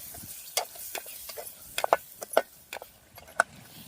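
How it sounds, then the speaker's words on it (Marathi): Ginger garlic paste is stirred into fish masala in a pan, with a series of sharp scraping and tapping strokes of a spoon over a soft, low sizzle. "आता मिक्स करून घेते अद्रक लसूण पेस्ट ते पण टाकून घेतले आता पण मिक्स करून घेऊ"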